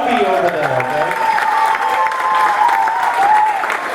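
Audience applause fills the room at a school or community event, steady dense clapping with a few cheers, loud and continuous throughout with no pause.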